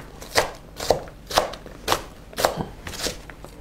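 A knife chops onion on a board in about seven evenly spaced, crisp strokes, close and alone with no talking.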